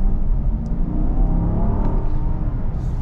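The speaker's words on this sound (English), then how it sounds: "hear that Hemi a little bit" A Hemi V8 in a 2021 Jeep Grand Cherokee L Overland pulls hard under acceleration, heard from inside the cabin as a deep, steady growl mixed with road roar, without talk.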